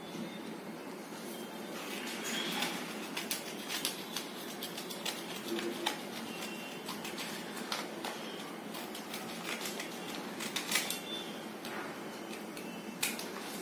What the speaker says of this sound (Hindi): क्रीज बनाने के बाद आपको कैची से वहां तक ही काटना है, उससे ज्यादा नहीं काटना है।